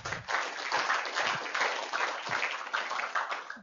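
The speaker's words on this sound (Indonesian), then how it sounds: "mari kita berikan aplaus yang meriah untuk Bapak-bapak semuanya" Audience applause at a distributor class, many hands clapping steadily and fairly close, sustained throughout.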